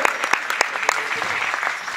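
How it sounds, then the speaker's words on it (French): An audience claps to honor a group who have just finished, with sharp individual claps standing out over a softer bed of clapping, fairly close and brisk, tapering slightly toward the end. "On peut les applaudir parce que ils ont fait un gros boulot."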